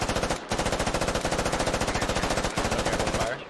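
Sustained machine gun fire in the Squad military shooter game, a fast continuous rattle of loud automatic bursts with two brief pauses, close and dominant throughout.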